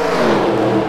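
Race car engines rev in a stock-car racing game at Daytona, a brief, loud, steady buzzing roar with no voices.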